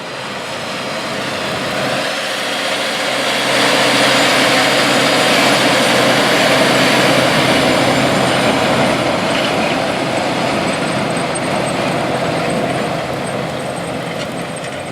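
A John Deere 9620R tractor on a triple tire package pulls 915 V-rippers through a field during heavy tillage, giving a steady, loud, broad engine and machinery roar that holds throughout without a break.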